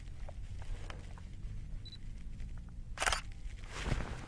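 A single camera shutter click for a landscape shot with a wide 11–16 mm lens, near and crisp, followed by a soft handling rustle, outdoors in quiet.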